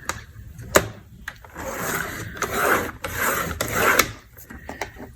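A scoring tool is drawn along paper while creasing score lines for a handmade gift bag, giving a soft, close rasping scrape in a few short strokes with light taps between them.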